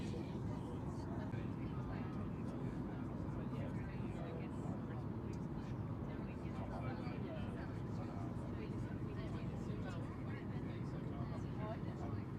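Cabin of a Bonza Boeing 737 MAX on approach and landing at Sunshine Coast Airport, a constant dense low engine and airflow roar, heard from inside, steady and unbroken throughout.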